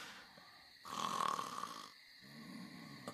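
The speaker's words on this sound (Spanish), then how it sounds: "Vaya, como ronca" A person snores at night in a quiet bedroom, one loud drawn-out rasping snore standing out clearly against near silence, followed by a softer, lower breath.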